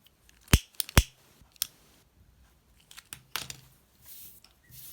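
Scissors snip crochet thread while making Turkish needle lace trim, a few sharp close clicks in quiet with faint handling rustles after.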